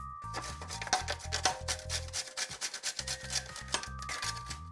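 Lemon zest grated by hand for a seaweed risotto with shrimp, a close, rapid series of rough scraping strokes with brief pauses between bursts.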